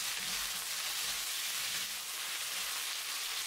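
Chicken and onion sizzle and fry in a pan over high heat, a steady close hiss with faint stirring movement underneath and no talking.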